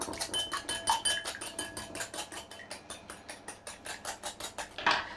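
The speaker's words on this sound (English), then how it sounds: "As I've only got 1 egg, I'm just going to use a very small whisk." A very small whisk beats a single egg in a bowl, giving a quick, regular run of light clicking taps close by, steady throughout with no talking.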